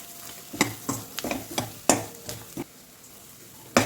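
Ground peanut paste fries on low heat in a pan while being stirred, with a soft sizzle under repeated sharp scrapes and clinks of a spoon against metal, close and irregular, with a few quieter pauses.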